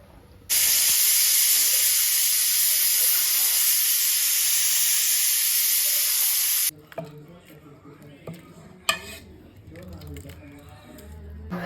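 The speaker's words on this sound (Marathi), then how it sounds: "आणि मीडियम गॅसवर 4 शिट्ट्या." A pressure cooker whistle on medium gas blasts a loud, steady steam hiss for about six seconds, then cuts off abruptly, leaving quieter kitchen clatter and faint voices.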